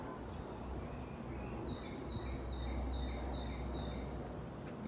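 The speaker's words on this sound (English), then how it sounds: "There's a lot of different kind of" Wild birds sing and chirp around a backyard bird feeder hung in a tree, repeated descending whistled calls carrying over a steady low outdoor rumble, fairly faint and without talk.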